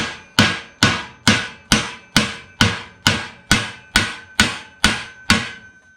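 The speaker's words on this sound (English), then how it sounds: "we should be able to hammer it some more" Twelve sharp, evenly spaced hammer strikes on metal exhaust parts for a 1952 Ford F1 ring out one after another, each with a bright metallic clang that decays quickly, close and loud.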